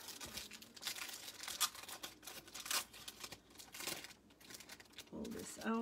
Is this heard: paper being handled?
yes